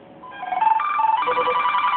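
A phone call rings out on a Motorola Droid or LG Optimus M handset, a steady electronic ringback tone lasting about two seconds, clear and close with no talking.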